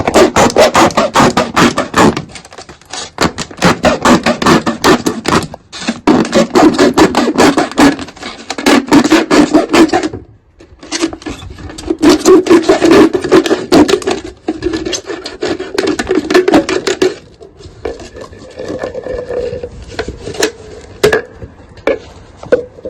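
A two-litre plastic can being cut in two, heard as close, continuous rasping and scraping strokes in bursts with brief pauses between them, loud and alone without talk.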